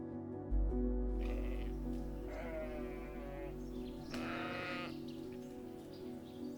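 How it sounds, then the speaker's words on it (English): Sheep bleat in the open countryside of the Faroe Islands, several wavering calls at moderate distance over a steady wind-like rumble, with one louder bleat near the end. "Sheep actually outnumber people here, and they have become an inseparable part of the land itself."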